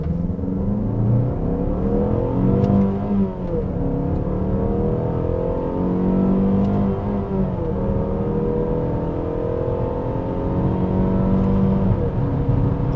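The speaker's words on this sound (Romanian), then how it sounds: "Și 0-100 în modul manual cu sport activat, la fel voi schimba eu că altfel nu ne lasă mașina." A Mazda CX-5 with a 2.5-litre petrol engine and six-speed automatic accelerates hard from 0 to 100 in sport mode with manual shifting, the engine rising steadily in pitch, dipping at two gear changes near 3 and 7 seconds, then climbing again, loud and close.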